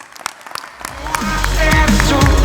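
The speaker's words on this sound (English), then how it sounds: "Please join me in a worthy round of applause" Applause from a graduation ceremony audience at Massey University in Manawatū swells up after a few scattered claps and grows into steady, full clapping, with music beginning underneath.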